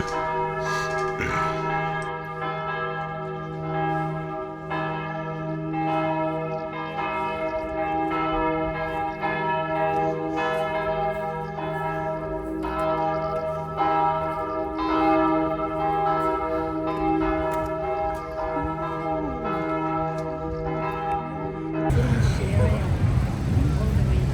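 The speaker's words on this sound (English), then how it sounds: "The church bells ringing reminds me of the scene from Kelly's Heroes" Church bells peal steadily in a French town on a Saturday night, their layered ringing tones sustained and fairly near for over twenty seconds, then giving way to a burst of broad street noise at the end.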